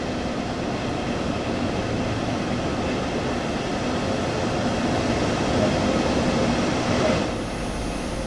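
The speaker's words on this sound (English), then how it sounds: "I'm on a German locomotive." A German electric locomotive in Train Sim World 2 on the Dresden Nahverkehr route rolls along with a continuous broadband rumble and rail noise, steady and fairly loud, with a brief shift in texture near the end.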